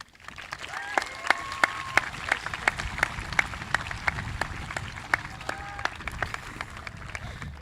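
Crowd applause at a high school graduation ceremony, sustained clapping with sharp individual claps standing out, a few distant cheers and whistles over it, heard from within a large audience.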